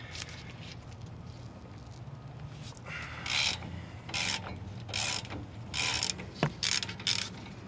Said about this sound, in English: Holding the caliper mounting bracket while you turn the bolts will allow you to do it a lot faster